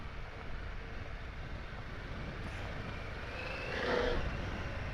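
A Harley-Davidson Pan America 1250 Special cruises on light throttle, its engine a low, steady rumble mixed with broad road and wind noise that swells slightly near the end.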